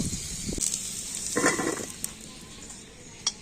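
Whole cumin and whole garam masala tempering in two spoons of hot mustard oil in a wok, a soft sizzle with a few light clinks of a spoon against the pan.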